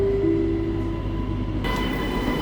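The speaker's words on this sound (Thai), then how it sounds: "รถไฟฟ้าสายสีน้ำเงินนะผม" Inside a moving Bangkok MRT Blue Line metro train near Bang Pho station: a steady low rumble with tonal motor hum, shifting into a brighter mechanical whine partway through.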